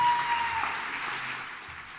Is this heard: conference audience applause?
yes